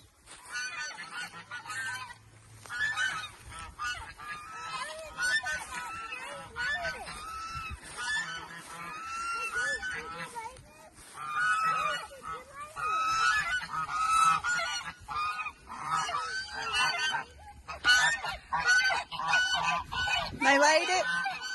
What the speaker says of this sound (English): Let's go to the goose and see if they laid it. Wanna go talk to the geese?